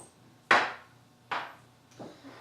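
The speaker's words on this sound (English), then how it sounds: "Just cut it all along the edges, just to get the excess off." A knife cuts excess pastry dough from the edges of an apricot apple pie, giving three separate sharp tapping strokes against the dish, each fading quickly, close and fairly loud.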